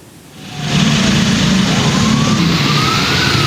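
An ambulance siren wails steadily and loud, close by amid heavy stop-and-go traffic on a congested arterial road at a junction in Cirebon, with engine rumble underneath throughout.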